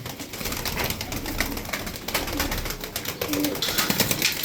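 Pigeons in a loft, among them a crested, good-playing hen, coo in a steady close chorus with faint rustling and no talk.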